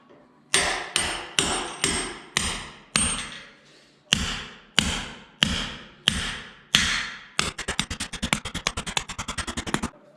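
Hammer blows drive an anchor bolt for a two-post vehicle lift into a concrete shop floor, a nut left on the stud end: about a dozen loud, evenly spaced metallic strikes, then a rapid flurry of quicker lighter taps.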